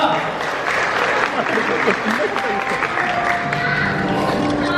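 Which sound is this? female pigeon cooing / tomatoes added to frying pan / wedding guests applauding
wedding guests applauding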